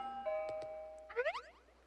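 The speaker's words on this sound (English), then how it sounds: "Was that the doorbell?" A two-tone electronic doorbell chime rings once in the video game Pokemon Moon: a clean sustained tone, then a quick bright rising flourish of notes, heard alone and fairly soft.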